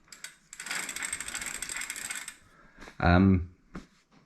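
The cranks of a Raleigh Twenty shopper bicycle turn with a soft whirring mechanical rush, followed by a short, louder ratcheting clatter of gears and a couple of faint clicks, close by.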